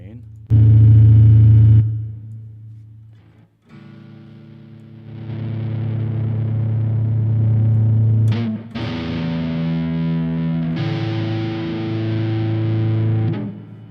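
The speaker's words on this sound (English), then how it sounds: "Reverb and distortion all the way up." An electric guitar plays through high-gain distortion with reverb turned all the way up, sustained droning chords ringing and decaying with long washy tails, loud and close.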